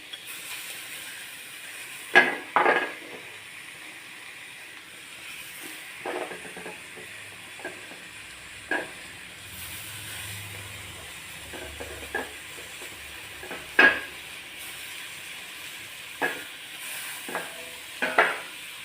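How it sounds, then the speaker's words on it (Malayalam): Fish roe fries in masala in a pan with a soft, steady sizzle, broken by sharp intermittent scrapes and clatters of a spoon stirring the mixture. "മീൻമുട്ട ചേർത്ത് കൊടുക്കുക."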